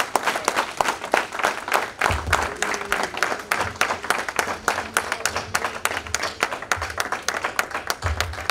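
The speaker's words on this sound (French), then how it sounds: "Est-ce qu'on peut continuer d'applaudir M. le ministre jusqu'à ce qu'il s'asseye?" An audience keeps applauding a minister after his speech, a steady rhythmic clapping that sounds like a sizeable hall. Some faint voices sit underneath the claps.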